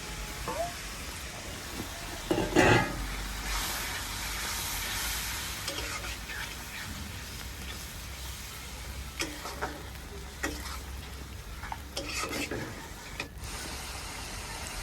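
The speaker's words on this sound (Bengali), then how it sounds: "তো এই যে আমার মশলা কষানো শেষ" Spice paste fries and is stirred in a pan, with a steady broadband sizzle, scraping strokes and a louder clatter near the start, then scattered sharp ticks later on.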